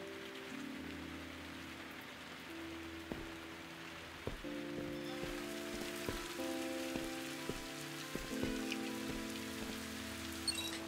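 Steady rain patters on a surface with occasional louder drops, under sustained low musical tones, in the video game Viewfinder; no voices.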